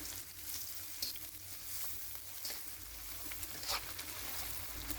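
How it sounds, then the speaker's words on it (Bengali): Onion fries in mustard oil in a hot wok with a continuous close sizzle, broken by scattered crackles and pops and a little stirring. "পেঁয়াজ ভাজা হয়ে গেছে"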